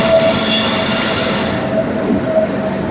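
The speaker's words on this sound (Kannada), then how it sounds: "ನಮ್ ಟ್ರೈನ್ ಬಂತು" A train rolls into a station on the route to Mangaluru with a loud, continuous rumble and hiss, thin wheel squeals rising and fading over it, close and steady with no talk.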